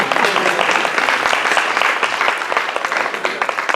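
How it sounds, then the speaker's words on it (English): An audience at a Democratic elected officials and candidates meet-and-greet claps steadily and fairly loudly, with individual claps distinct toward the end. "Can we clap?"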